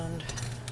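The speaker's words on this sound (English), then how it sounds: "Stir it around." Brief clinks of a utensil against a bowl as chopped salad with cheese, croutons and dressing is stirred, two or three quick metallic taps over a low hum.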